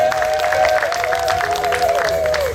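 A church wedding congregation applauds and cheers together, a dense steady clapping crowd close by with a sustained tone running underneath throughout.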